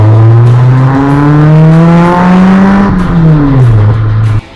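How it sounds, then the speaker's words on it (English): A 1994 Suzuki Swift GTi with an aftermarket exhaust revs hard and steadily climbs in pitch, then eases back down to a loud idle, heard close and alone with no talk. "Just listen to this aftermarket exhaust."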